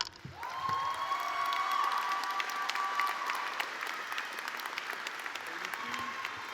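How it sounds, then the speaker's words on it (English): An audience at a graduation ceremony breaks into sustained applause that swells quickly and holds, dense clapping with a few cheers, with a voice briefly heard within it. "give a round of applause for Michelle Battle"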